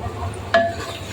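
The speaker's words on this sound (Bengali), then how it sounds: "অল্প করে পানি দিয়ে কষিয়ে নিব" Beef brisket with spices sautéing in a pan with a splash of water, a low continuous sizzle with a single sharp clink of a utensil against the pan partway through.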